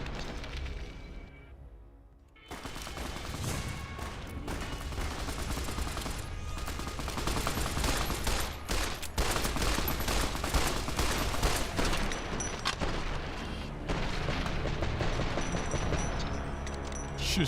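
Sustained gunfire from the video game Fallout: New Vegas: dense, rapid volleys of shots and bursts, loud and continuous after a brief quieter opening.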